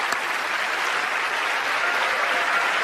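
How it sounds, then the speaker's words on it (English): A studio audience at a magic show applauds a volunteer called to the stage, a dense, even wash of clapping that holds steady and fairly loud throughout. "Give him a round of applause."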